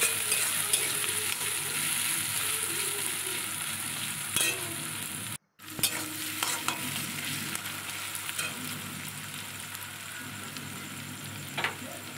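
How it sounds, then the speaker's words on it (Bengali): Onions frying in hot oil while being stirred, cooked for a pointed gourd mash: a steady dense sizzle with scraping stir strokes, close and fairly loud, broken by a brief drop-out near the middle. "এবার পেঁয়াজ আস্তে আস্তে করে সমস্ত পেঁয়াজগুলো দিয়ে দেব তেলের ওপরে। এবার বেশ একটা ভাজা ভাজা মতন হবে।"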